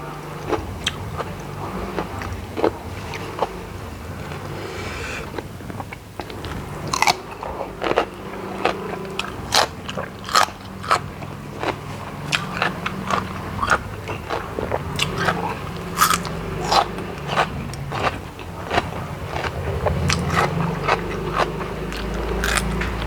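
Crunchy fresh vegetables served with southern Thai food are bitten and chewed close up, with repeated sharp crisp snaps and wet munching in an uneven steady rhythm.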